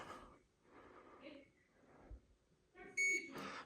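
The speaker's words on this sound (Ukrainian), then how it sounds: "Звуковий сигнал." Gendome wireless charging power station starting up with an electronic beep, a short tonal chirp near the end that stands out after quieter background sounds and breathing.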